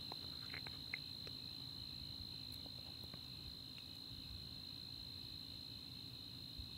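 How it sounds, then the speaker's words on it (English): Crickets chirping outdoors at night, a continuous high steady trill holding faint and even in the background with no one talking. "So the crickets are out there"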